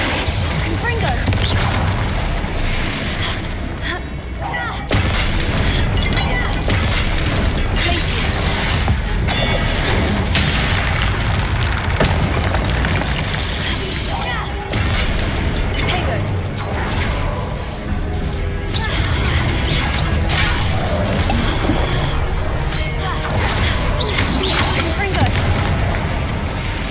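Confringo fire spells explode repeatedly in Hogwarts Legacy, heavy booms and crashes rolling over dense continuous game music and effects, with steady loud impacts throughout.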